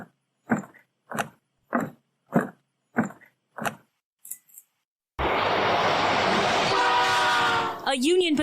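A Union Pacific freight train sounds a series of short, evenly spaced horn-like blasts, then rumbles past loudly and close in a continuous roar with a sustained horn tone near the end.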